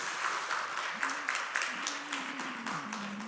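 A church congregation applauds to welcome visiting families during a Sunday service, a steady patter of many hands clapping, moderately loud, with a voice talking or humming along under it.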